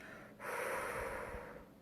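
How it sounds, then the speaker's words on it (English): A single slow, audible breath out through the mouth during a relaxation breathing exercise, quiet and close, rising after a short pause and trailing off gradually. "So really audibly breathing out."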